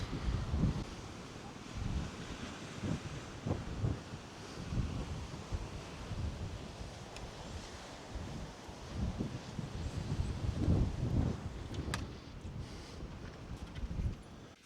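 Strong coastal wind buffets the microphone in rumbling gusts throughout, a continuous roar with no clear speech, by a river near St Mawes.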